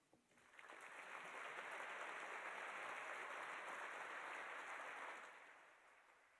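Audience applause fills a room at a charity dinner celebrating foster home trainers, a sustained wash of clapping that swells in within a second, holds steady, then tapers off near the end.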